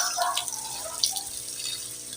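Water from a fish tank housing cream dory fish drains straight into an outdoor drain, giving a steady close trickle and splash with faint drips, with no talking.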